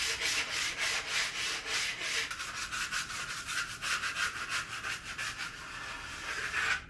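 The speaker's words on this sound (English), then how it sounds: "Just going to give it a little rub down to remove those last little bits and make it nice and smooth" Steady back-and-forth rubbing smooths a glued wooden part from a 1947 Belarus upright piano, a rhythmic rasping abrasive sound at close range with no talk.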